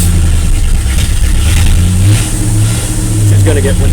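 A truck with a 305 engine runs loud and close as the throttle is held and eased, the engine note rising and falling in a rough, steady drone while someone talks over it.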